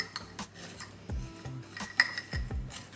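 A spoon stirring overnight oats with crumbled biscuits in a bowl, giving a few quiet, close scrapes and clinks against the bowl's side.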